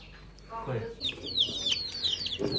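A young chick chirps in a rapid run of high, thin peeps at a home birthday party. A voice and room noise come first, then the peeps follow close and clear.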